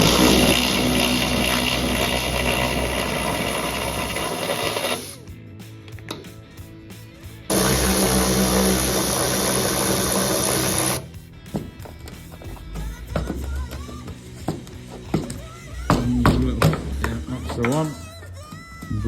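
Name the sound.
drilling out spot welds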